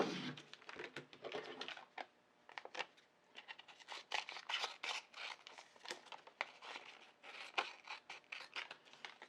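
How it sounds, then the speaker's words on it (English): A Cricut scraper tool is rubbed firmly over craft vinyl pressed onto transfer paper, giving close, brisk scratchy strokes in quick irregular runs with short pauses between them. "I'm using my Cricut scraper tool just to really make sure that that vinyl and transfer paper really stick together"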